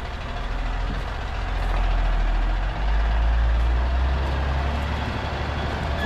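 A heavy garbage truck engine rumbles steadily nearby in Bolivia, deep and continuous, with faint mechanical clanks over the idling drone.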